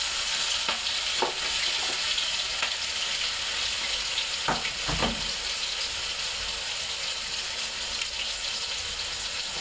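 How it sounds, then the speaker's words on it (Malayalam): Chicken pieces fry in hot oil in a pan with a continuous crackling sizzle, broken by a few sharp clinks and scrapes of a utensil; fairly quiet and close, with no voices. "നമ്മൾ കണ്ട ചിക്കനൊക്കെ ഒന്ന് വറുത്ത് കോരിയിട്ട് അത് പിന്നെ കറിയാക്കാം"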